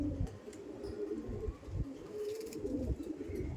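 Rampuri pigeons coo repeatedly in low, throaty rolls, several birds close by overlapping, with a few faint chirps in the background.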